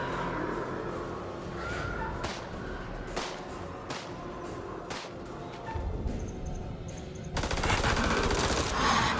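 Gunfire in the horror video game House of Ashes: a series of sharp, separate cracks spaced through the first several seconds, then a louder, harsher burst of noise near the end, with only slight voices around it.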